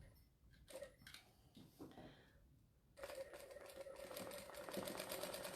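A sewing machine free-motion quilting stitches around teddy shapes: quiet handling at first, then a steady, rapid mechanical stitching rattle that runs continuously and grows slightly louder.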